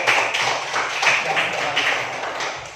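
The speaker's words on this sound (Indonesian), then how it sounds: "Mari kita berikan tepuk tangan kepada kelompok." A classroom group gets a round of applause from students, a steady patter of many hands clapping together, fairly loud and close, with no talk over it.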